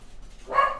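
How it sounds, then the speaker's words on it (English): A single short dog bark, close and fairly loud, over a faint low background hum. "Crazy dog."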